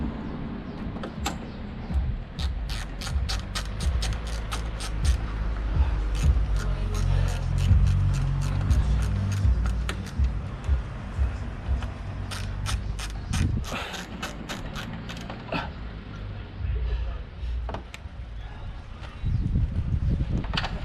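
A bolt being threaded in by hand, giving a run of rapid metallic ratcheting clicks and gear-like turning sounds, close and fairly loud over a low rumbling background.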